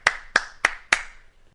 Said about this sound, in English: Station master applauds.